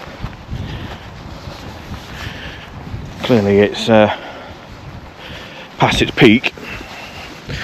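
Strong gusty wind buffets the microphone beside the flooded River Trent in a steady rumbling roar, while a person talks briefly over it.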